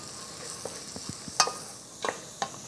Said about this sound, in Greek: ρίχνουμε την τριμμένη σελινόριζα και το τριμμένο κρεμμύδι. Ανακατεύουμε.